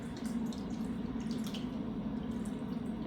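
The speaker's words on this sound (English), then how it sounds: "I'm going to pour about a quarter of this over our chicken" Thick salsa poured from a store-bought jar over chicken in a slow cooker, a steady close wet glugging and dripping pour that runs unbroken for about three seconds with no talking.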